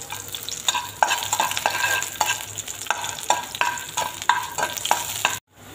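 Dry red chillies, bay leaves and cinnamon hiss and crackle in hot oil for a pineapple chutney, with a spoon scraping through in a steady rhythm of close strokes before cutting to a brief silence at the end.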